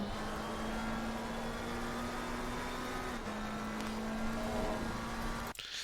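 McLaren 720S EVO at full throttle in Assetto Corsa Competizione at Circuit of the Americas, a steady high engine drone holding near-constant pitch, dipping slightly mid-run, no speech.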